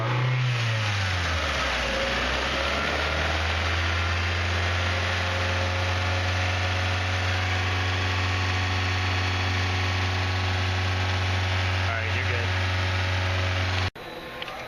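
A car engine revs up quickly, then holds a steady, loud, constant drone at 2,500 RPM for about thirteen seconds during MAP sensor testing before cutting off abruptly.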